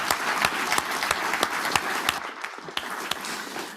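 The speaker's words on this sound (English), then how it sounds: "Big applause to this panel." Audience applauding a panel at a conference on disability rights, accessibility and artificial intelligence; steady, fairly faint applause from a crowd with sharp individual claps standing out, no speech.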